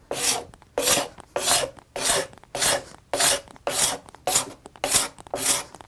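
A card scraper shaves fine wisps from a wooden board in ten steady, evenly spaced strokes, each a crisp, close rasping pass with brief quiet gaps between.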